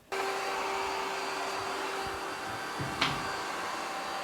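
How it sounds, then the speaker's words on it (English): An ECOVACS DEEBOT X11 OmniCyclone robot vacuum starts its vacuuming and mopping run: a loud whirring motor kicks in abruptly and holds a steady high hum, with a brief click and a light knock partway through. "Then we will start the vacuum and mopping, start."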